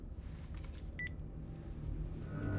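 A telephone keypad tone beeps briefly against a low background rumble, a short dialing sound heard once without speech.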